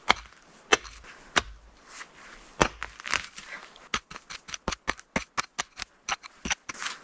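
A log is carved out for a campfire with a blade, sharp chopping strikes landing sporadically at first, then speeding into a quick, steady run of close, crisp cuts.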